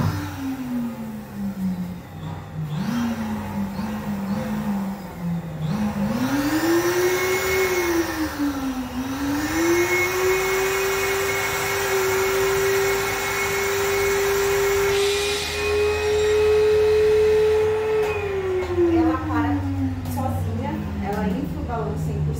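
A Super Stuffer balloon stuffing machine runs loud and close with a motor whine whose pitch dips, climbs and holds before falling off, a steady airy hiss beneath, and no clear talk over it.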